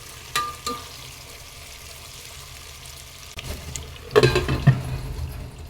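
Potatoes with turmeric stirred in a pan, quiet low sizzling broken by a few spatula taps, then louder scraping and stirring bursts near the end.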